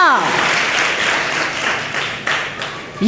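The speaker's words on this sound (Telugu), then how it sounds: "ఒకసారి అందరం గట్టిగా చప్పట్లు కొట్టి దేవుని మహిమపడదామా?" A church congregation at a Telugu sermon bursts into loud, sustained clapping that holds at an even level for about three seconds, with a brief voice heard at the start and end.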